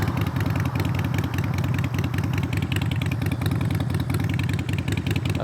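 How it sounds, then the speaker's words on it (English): Harley-Davidson motorcycle idling nearby, a steady low, loping engine rumble with an even pulsing beat, alone with no talk. "name this type of motorcycle that's next to me, you motorcycle enthusiasts. You should be able to tell from the growl. Yep, it's a Harley"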